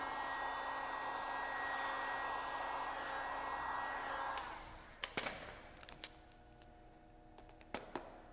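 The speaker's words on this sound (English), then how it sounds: "it'll actually come out with the heat gun, just like that" A heat gun blows steadily on tint film laid over a Toyota Supra headlight, a loud continuous whooshing hiss that cuts off partway through, leaving quieter handling taps and clicks.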